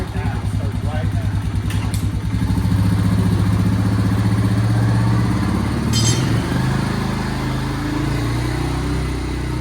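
A Honda Rancher 350 ATV engine cranks, catches and settles into a loud, close, steady idle, its throbbing putter running throughout with a brief rev or clatter partway through.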